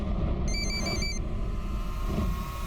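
A telephone rings once with a short electronic tone burst over a low background rumble.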